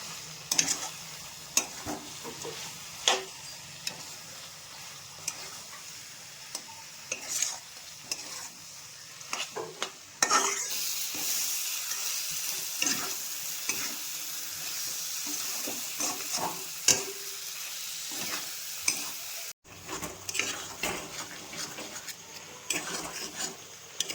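Meat and spice masala for a Purulia-style meat ghugni is stirred and fried in a pan, with a steady sizzle and frequent scraping strokes of the spoon, louder and hissier in the second half, with no talking.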